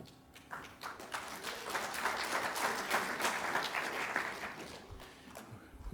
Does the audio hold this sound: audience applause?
yes